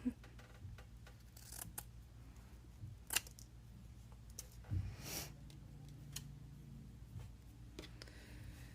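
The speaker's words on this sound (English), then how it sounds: "I think I'm gonna go ahead and cut out the wires right away." Scissors snip quietly and intermittently as wires are cut off index cards, a few sharp close clicks and cuts over a faint background hum.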